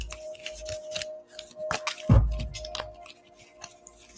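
Tarot cards handled and pulled from a deck: close, dry papery snaps, slides and taps in an irregular sequence, with one heavier rustle partway through and quieter handling on either side, no talk.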